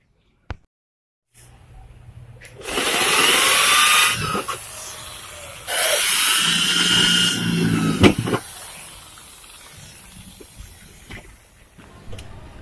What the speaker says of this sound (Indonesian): Jadi di sini kita akan buat 2 lubang untuk baut trafo.